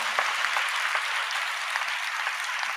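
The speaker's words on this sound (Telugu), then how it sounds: "చప్పట్లు. అర్థమైతే గట్టి కొట్టు" A congregation claps together at a church gathering, a dense, steady wash of many hands close and loud throughout, with no voices over it.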